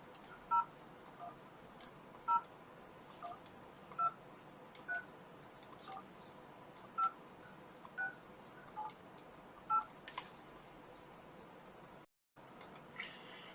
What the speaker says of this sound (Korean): 키패드를 이용하여 전화를 거는 방법은 먼저 키패드를 터치하시고 상대방의 전화번호를 직접 입력하시면 됩니다